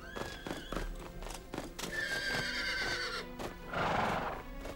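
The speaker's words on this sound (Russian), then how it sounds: "Они крадут лошадей." Horses neigh loudly in an animated adventure scene after gunfire, with a long whinny and clip-clopping hooves alongside a busy, rhythmic background throughout.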